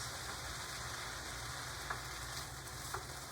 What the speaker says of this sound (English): I'm just going to stir that around until the vegetables are partially cooked.